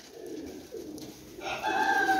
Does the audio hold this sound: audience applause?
no